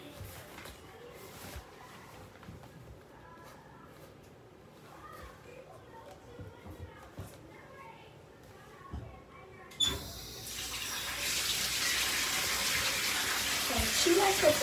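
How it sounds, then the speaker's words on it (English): Warm and cold water run from a tap into a bathtub, a steady gushing stream that grows louder and fuller partway through, with quiet household movement and knocks before it. "I run the water, and I'm gonna do like warm and cold"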